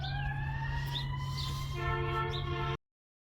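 An emergency vehicle siren wails steadily with rising and falling tones, clear and fairly loud over a low engine hum, then cuts off abruptly.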